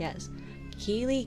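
A house cat gives a clear, rising meow near the end, close by, following soft speech from a person.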